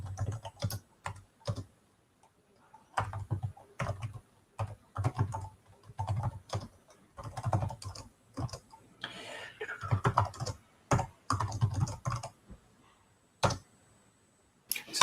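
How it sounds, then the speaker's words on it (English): Bursts of typing on a computer keyboard, quick clusters of small clicks separated by short pauses, close and fairly quiet with no speech. "So tell us what you're typing in."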